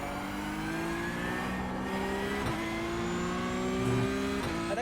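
A Porsche Cup race car lapping the Nürburgring in a racing video game, its engine revving loud and close with steady rising pitch sweeps and a few sharp shifts between gears.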